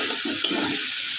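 Potatoes sauté with mustard paste, chili and turmeric, a brief steady sizzle with a single soft stirring knock.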